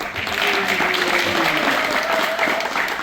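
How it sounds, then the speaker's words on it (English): Crowd applause at a Father's Day gathering at the Dollarhide Center in Compton, a steady dense patter of clapping filling the whole stretch with faint voices underneath. "let's give them a round of applause"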